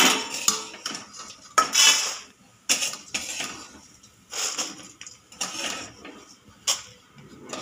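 A pan of fried puffed rice is lifted off the stove, making a series of close metallic clanks, scrapes and knocks of utensils against the pan, with brief pauses between.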